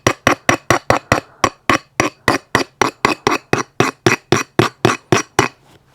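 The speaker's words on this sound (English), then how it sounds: "You take your skate and you may sharpen it with this stone." A sharpening stone strokes along an ice skate blade in a steady run of about twenty crisp, evenly spaced scraping strikes. The sound is close and loud with a ringing metallic edge and no talking.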